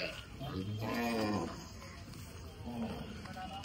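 Gir cows tied up at a cattle market in Dhule, with a loud, drawn-out moo near the start and a shorter lowing call later, over background crowd murmur.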